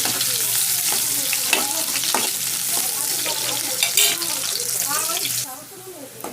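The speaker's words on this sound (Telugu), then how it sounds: "ఎర్రగడ్డలు ఫస్ట్ బాగా ఫ్రై చేస్తున్నాం" Onions fry in hot oil for a village-style spicy crab fry, a loud close sizzle broken by scraping stirs that stops abruptly near the end.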